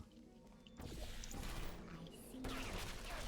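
Automated turrets firing in the video game Portal: Revolution, a dense burst of rapid gunfire that swells after a quiet opening and keeps going loudly to the end, layered with game noise and some talk.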